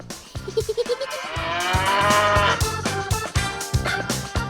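Hungry cattle being fed grass hauled in by a large truck at a cattle farm, with a few close lowing calls and bleat-like cries rising over steady farmyard clatter, no talking.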